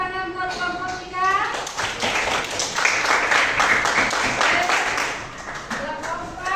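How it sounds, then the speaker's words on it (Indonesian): A classroom group claps for group 3 in a short, lively burst of scattered applause, with voices mixed in before and during it. "beri tepuk tangan buat kelompok 3"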